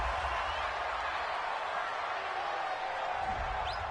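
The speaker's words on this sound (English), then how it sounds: "Well, the crowd doesn't like that." A steady, dense roar from a stadium crowd at a football game, Vikings fans reacting to a play, sustained and distant-sounding without a clear peak.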